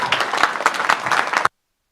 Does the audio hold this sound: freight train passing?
no